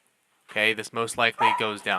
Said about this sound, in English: My dog is going crazy, so excuse the barking.